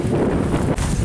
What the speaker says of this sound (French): je pense que vous n'entendez rien du tout avec le vent qu'il y a.